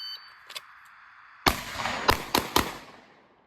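Rapid pistol shots, a Glock or 1911, fired at steel targets on a draw-and-fire course: one sharp crack after a short wait, then three more quick reports with ringing impacts, loud and close, fading into a decaying tail.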